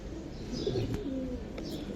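A Giribaz pigeon at a pigeon farm gives low cooing notes close by over steady background noise, with a few faint chirps mixed in.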